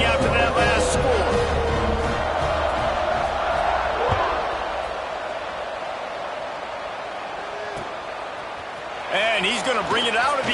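A football stadium crowd buzzes after a score in a game against Houston, a broad, steady roar filling the clip, with a louder swell near the end and talk over it.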